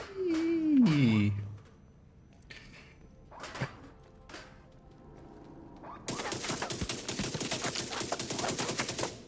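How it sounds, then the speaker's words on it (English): In a video game, a sweeping tone and a few dull thuds are followed by rapid, sustained automatic gunfire as the player shoots physics objects, the bursts dense and close. "I've tried shooting a bunch of stuff here, like shooting all of these stuffs"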